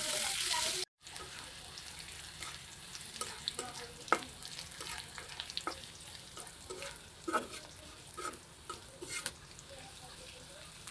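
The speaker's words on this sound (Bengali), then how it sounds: "পেঁয়াজ, রসুন, মরিচ বেশি পরিমাণ দিয়ে ব্রাউন কালার করে ভেজে নিচ্ছি" Onion, garlic and chili frying in plenty of oil in a pan until browned, a soft steady sizzle broken by the clacks and scrapes of a spatula stirring, after a brief louder noise at the start.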